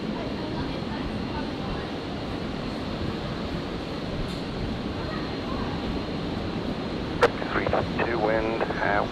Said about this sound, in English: the live flight Challenger heading over to the hangar, turning right